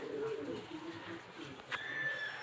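A domestic pigeon in a fancy-breed loft in Bangladesh gives soft, low cooing, quiet and close, under a murmur of people talking.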